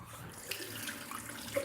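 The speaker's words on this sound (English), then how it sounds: "lovely hot water we got" Hot water runs from a tap into a sink, a soft, close trickle with faint splashes and drips, quiet and without talk.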